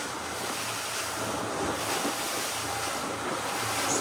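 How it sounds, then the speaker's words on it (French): A Patrol 760 semi-rigid dive boat planes fast over choppy sea, giving a constant loud rush of wind and spray with slapping water and engine drone beneath, steady without a break. "On est sur un bateau qui déjauge super vite."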